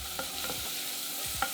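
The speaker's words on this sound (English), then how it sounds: "Add in a finely diced onion and cook for 5 minutes," Finely diced onion fries in oil in a large saucepan over medium heat while being stirred. Soft sizzling runs under a few sharp spoon scrapes and clinks against the pan, with no voices.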